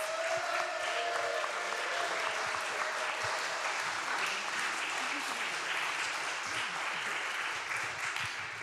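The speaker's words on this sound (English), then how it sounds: "let's give them one more round of applause as they return to their seats" A church congregation breaks into sustained applause at a Sunday service, a steady wash of clapping heard from within the room that holds evenly for the whole stretch.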